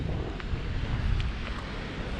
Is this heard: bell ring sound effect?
no